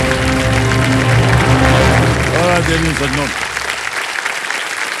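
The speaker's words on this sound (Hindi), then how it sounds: "तालियां बजती रहें इनके लिए।" The studio audience of the KBC quiz show applauds the contestants with loud, continuous clapping under a host's voice and swelling show music, then the clapping fades toward the end.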